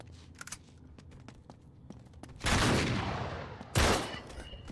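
Shotgun fire in the video game Uncharted 3: two loud blasts with noisy tails among faint clicks and footsteps.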